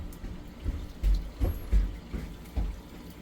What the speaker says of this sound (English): go turn the water on and see what happens.